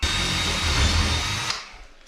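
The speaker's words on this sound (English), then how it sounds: "I'm gonna get under there and drill a hole" A power drill bores a hole up through a ceiling while a tub deck is built, its steady motor whine running loud and close for about a second and a half before winding down to quiet.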